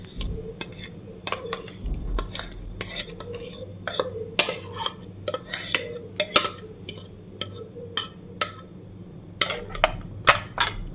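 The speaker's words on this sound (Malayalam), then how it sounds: "ഇതൊന്ന് മിക്സ് ചെയ്ത് കൊടുക്കാം." Mashed banana being stirred into oats in a bowl, a spoon clinking repeatedly against the bowl in an uneven, tapping rhythm, close and fairly quiet.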